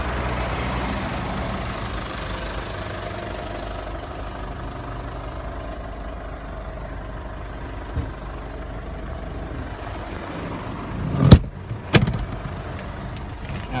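A 2010 Ford Ranger XLT Extracab's 3-litre turbo diesel engine idles steadily with a low, even rumble, and two brief louder knocks come near the end.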